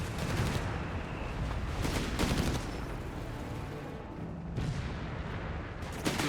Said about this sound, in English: Mortar there, landing short there out of Cushion's mortar works.